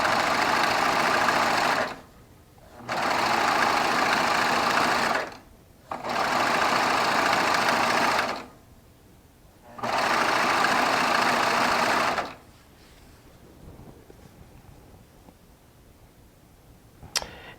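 A Baby Lock Triumph overlock serger running a 4-thread overlock stitch on quilt binding hums loudly in four steady bursts separated by short pauses, then falls quiet with faint handling noise at the end.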